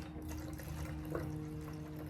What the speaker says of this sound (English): Now I'm going to add water to my 1 to 10 dilution in this foam cannon.